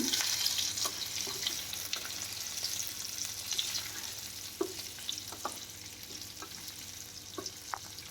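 Boiled, peeled potato pieces sizzle and fry in a pan while a spoon stirs them, giving a steady close hiss with occasional scraping taps against the pan.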